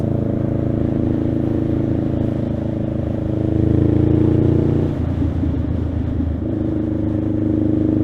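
A motorcycle rides along a cold road with a steady, loud engine drone and wind rush. The engine note shifts partway through as the rider eases off, and no talk is heard.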